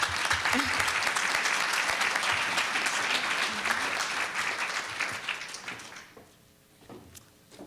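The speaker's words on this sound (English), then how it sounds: "So give yourselves an applause because I didn't do it alone." Conference audience applauding steadily and loudly for about six seconds, then the clapping thins out and fades to scattered claps at the end.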